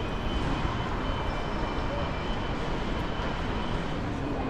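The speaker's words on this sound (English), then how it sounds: "Beautiful airport." Constant broadband roar of aircraft engines inside Istanbul's new airport, loud and unbroken with no talk or distinct events.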